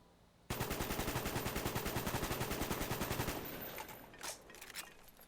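An AK47 rifle fired with no sights in a long, rapid automatic burst of evenly spaced loud shots, then a few quieter clinks and rattles once the firing stops.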